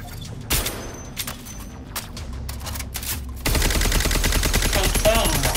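Gunfire at practice targets in the Concord shooter game on PS5: a sharp shot near the start, scattered bursts, then a dense sustained rattle of rapid fire in the final seconds, loud and close.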